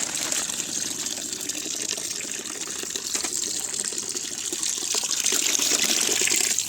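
A steady, loud running tap pours water over used eggshells to soak and wash them, keeping up a continuous gushing splash throughout.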